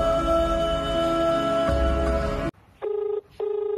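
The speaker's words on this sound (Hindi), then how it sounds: "मी आता माझ्या बायकोला फोन लावतो" A telephone is dialed, with an electronic tone sounding under background music before it cuts off, then two clear keypad or ring tones follow in a short rhythmic pair.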